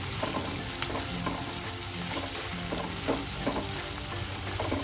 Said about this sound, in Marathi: कांदा मस्त असं आपल्याला ब्राऊन कलरवर भाजून घ्यायचा आहे